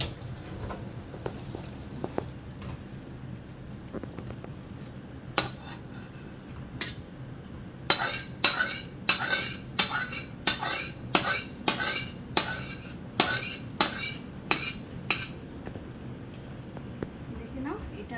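Cutlery and dishes clink repeatedly while a spicy boal fish curry, made without onion or garlic, is plated. A rapid run of sharp, close metallic and ceramic taps forms the middle of the clip, with quieter scrapes before it.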